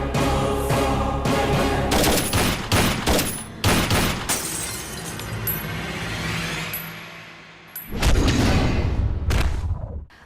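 Bursts of gunfire and loud impacts from a film action scene, rapid volleys in clusters with short pauses, close and loud, with a final heavy burst before fading.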